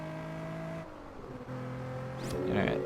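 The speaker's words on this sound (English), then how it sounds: "It's hard to shift before the rev limiter." A car engine in the racing game Test Drive Unlimited revs high and holds steady tones, then drops and climbs again toward the rev limiter, loud and close, with a short screech near the end.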